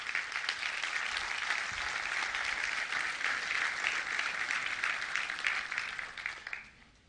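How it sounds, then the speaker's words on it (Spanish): A church congregation applauds God during a sermon, a dense, loud, sustained crowd of clapping that holds steady for several seconds and then fades out at the end. "Denle un fuerte aplauso a Dios."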